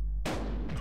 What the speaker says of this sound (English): So this should be a live round.